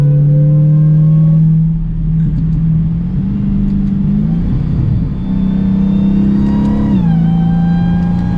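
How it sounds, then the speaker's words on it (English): A 2021 Dodge Challenger SRT Super Stock's supercharged engine revs loudly and steadily, with a high supercharger whine riding over the deep exhaust rumble as the pitch rises and dips. "You almost hear more of the supercharger whine than you do the exhaust."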